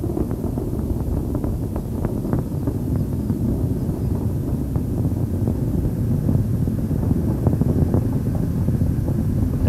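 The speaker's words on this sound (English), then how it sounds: "Main engines are throttling back now, helping to ease loads on the vehicle as it powers through the dense lower altitudes and continues to accelerate rapidly." Space Shuttle Endeavour's main engines during launch on mission STS-57, a steady, loud, low roar with wind-like rumble and crackle continuing without pause throughout.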